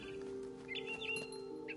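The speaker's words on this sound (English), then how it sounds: "Then I heard chirping outside my window. It was a barn swallow going back to her nest." Barn swallow chirping outside a window near its nest, a few short, high, thin tweets over a steady background hum, moderately close.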